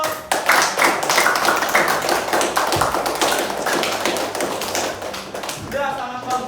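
A classroom of students at a vocational high school claps together in a lively, fairly close burst of rapid, slightly uneven hand claps that runs for several seconds, with a voice starting to speak as it tapers off.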